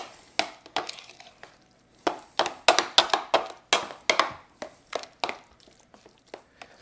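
A spoon works ricotta manicotti filling with parsley and Parmesan in a bowl, giving a close run of irregular clacks and soft scrapes that come in uneven bursts, with no voices.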